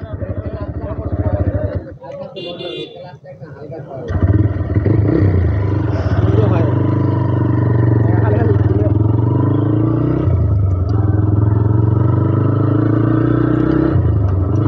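A TVS Raider 125 motorcycle, a 125 cc commuter bike, hums along in a steady, loud engine drone while being ridden, with voices heard over it.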